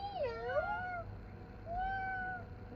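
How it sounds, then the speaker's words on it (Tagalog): A cat meows twice, a rising-falling cry followed after a short pause by a second, shorter meow, fairly close over quiet room noise. "What is the sound of cat?"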